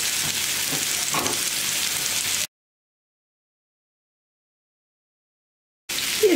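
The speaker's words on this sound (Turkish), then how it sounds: "ben burada çorbanın üzerine bir yemek kaşığı tereyağı eriteceğim toz biberle beraber." A spoonful of butter melting with chili powder in a pan over soup: a steady, fairly loud sizzle with a few stirring scrapes cuts off abruptly into silence, then returns briefly at the end.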